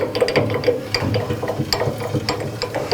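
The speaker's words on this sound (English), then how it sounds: "adjusting this guide down to match the thickness or the height of my board" Close, rapid clicking and ratcheting as a bandsaw blade guide is lowered to the height of a board, an irregular run of small mechanical ticks with no voice over them.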